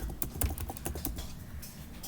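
Quiet, rapid clicking of keys on a computer keyboard while Python code is typed, an irregular close patter of keystrokes running through.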